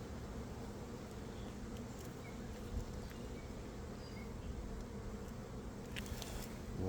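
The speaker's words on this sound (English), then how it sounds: "So many bees." Honey bees from a colony with a marked yellow second-year queen and capped queen cells, buzzing steadily around an open hive as a dense, even drone throughout, moderately faint, with no voices.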